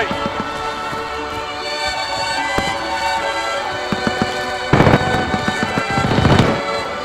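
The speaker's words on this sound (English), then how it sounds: "Grenade!" Explosions and gunfire crackle loudly in a Modern Warfare match, with a dense burst of blasts midway and another near the end over constant battle noise.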